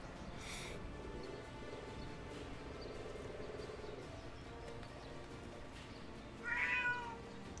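A cat meows near the microphone with a short, clear call toward the end, over a steady low background hum with no talk.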